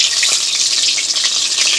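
Masala eggplant (baingan) slices frying in a pan, giving a steady, close hiss of sizzling oil that runs unbroken throughout with no talking.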